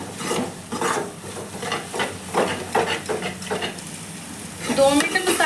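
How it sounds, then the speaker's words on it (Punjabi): Spice masala with turmeric roasting in a pan for a ridge gourd dish, close frying sizzle broken by repeated scraping strokes of a spoon against the pan, with a faint voice in the background. "ਆਪਾਂ 2 ਮਿੰਟ ਮਸਾਲੇ ਨੂੰ ਭੁੰਨ ਲਵਾਂਗੇ"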